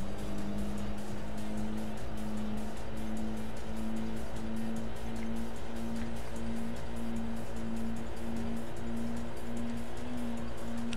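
Race cars in the Import Tuner Challenge video game drone with a steady, loud engine tone as the race gets under way, joined by tire noise and a continuous rushing mix throughout.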